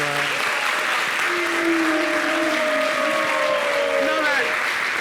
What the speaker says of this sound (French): on va applaudir pour la victoire du Maroc